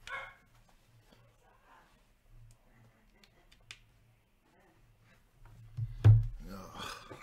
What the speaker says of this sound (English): Damn puppy.